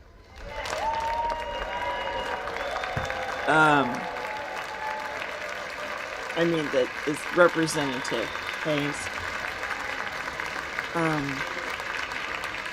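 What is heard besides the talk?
clapping in the chamber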